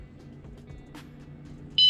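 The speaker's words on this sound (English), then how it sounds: "once we arm this, it should beep one more time." A single short, high electronic beep chirps as an electric scooter alarm arms, at the very end after near silence with faint background hum.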